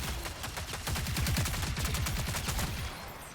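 Rapid, continuous turret fire in the game Marathon, a loud, steady mechanical stream of rounds thudding close by for several seconds with no talking.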